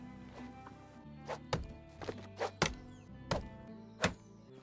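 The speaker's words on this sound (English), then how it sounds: "Now let's chop 2 trees." Axe strikes thunk into a tree in the game Medieval Dynasty, about eight sharp woody chops at an uneven but steady pace, close and distinct over a quiet musical background.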